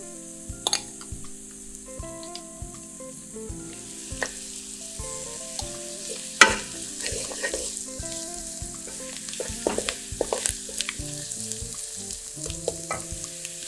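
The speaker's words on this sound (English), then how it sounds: "After it becomes a bit brown, add the garlic." Garlic frying in a hot pan during clam cooking with XO sauce, a continuous crackling sizzle with scattered pops and a few sharper clicks of a utensil, close and steady throughout.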